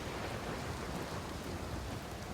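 Steady rain falling in the space game Outer Wilds, a dense, even hiss of drops filling the whole moment at moderate level with no voices over it.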